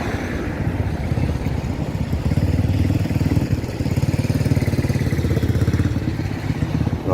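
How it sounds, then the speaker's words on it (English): An old motorbike rides along a road near the Grand Union Canal, its engine making a steady, moderately distant drone that holds at an even level throughout. "Nice old motorbike going down the road there."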